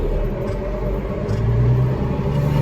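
Tractor engine pulling a grain cart, a loud steady low rumbling drone with a slight rise in pitch as the throttle is opened.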